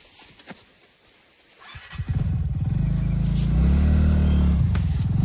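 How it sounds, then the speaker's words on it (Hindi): A second motorbike rides into a roadside campsite, its engine note building from near silence into a steady, loud rumble that holds close by for several seconds, with no talking. "अब दूसरी वाली गाड़ी आ रही है गाइस।"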